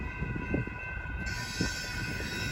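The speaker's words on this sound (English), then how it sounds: "This is probably our Amtrak." An Amtrak passenger train rolls past at close range, a steady rumble of wheels on rail with a faint high squeal and no voices.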